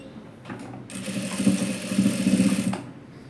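A domestic sewing machine stitches folded leftover fabric for a child's top, a steady rapid mechanical whir running for about two seconds between quieter pauses, close and clear.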